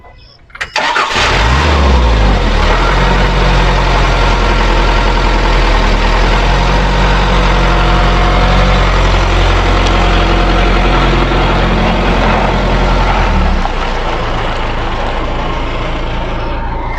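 A car engine running on animal-fat fuel cranks and catches, then settles into a loud, steady idle that holds for over ten seconds before easing slightly.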